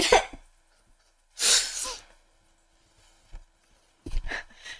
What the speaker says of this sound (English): and then he starts sneezing